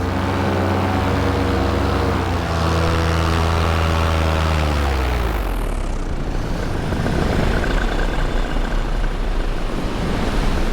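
A paramotor engine on an Ozone Viper XC wing climbs in pitch as the throttle opens in flight, with a loud steady propeller drone that shifts into broad roaring wind and engine noise.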